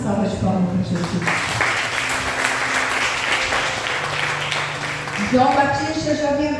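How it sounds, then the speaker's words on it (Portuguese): A church congregation claps for Jesus during a worship service: a steady, dense wash of applause from many hands lasting throughout, with a voice speaking over it toward the end. "Dê uma salva de palmas para Jesus"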